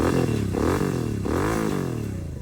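GT 650 motorcycle with a Red Rooster exhaust revving up close, a loud throaty engine note that rises and falls in repeated blips, with a rough crackling edge.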